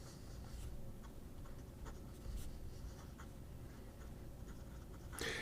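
A soft-nibbed fountain pen scratches quietly across paper, a faint continuous rasp with light strokes and small ticks, heard close up in a quiet room.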